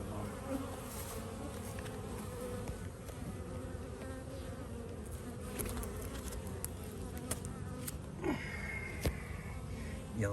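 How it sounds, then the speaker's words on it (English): A yellow jacket buzzes around a honeybee hive during fall robbing, a steady close insect drone layered over a wider hum of many bees, with a few sharper passes near the end. "That yellow jacket, unbelievable."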